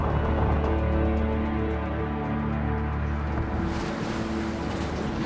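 Racing sailboats in an offshore ocean race pound through rough seas at high speed, a steady loud roar of wind, rushing water and crashing waves filling the whole stretch without a break.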